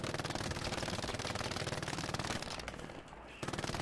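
Rapid, sustained machine gun bursts in a realistic military video game, dense and loud with a brief pause before firing resumes.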